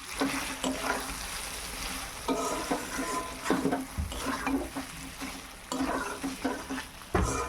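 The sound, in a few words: meat being sautéed and stirred in a pan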